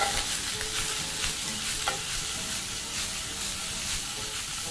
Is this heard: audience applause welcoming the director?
no